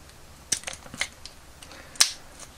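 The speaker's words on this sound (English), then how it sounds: "I'm going to take a pair of plastic nippers and I'm going to cut along the edge sort of in little bits" Plastic nippers cut a vintage 12-inch Princess Leia toy's plastic piece in small bits, giving sharp isolated snips and clicks, two louder cuts among quieter ticks, close against a quiet background.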